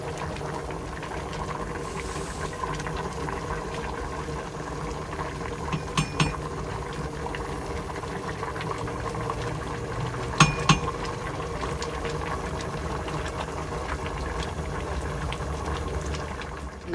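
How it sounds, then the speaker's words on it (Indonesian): Makassar-style yellow chilies boil in a pot of water over a gas flame, making a steady low bubbling rumble with a few faint metallic clinks along the way. "saya punya api sudah menyala ya. Jadi saya rebus"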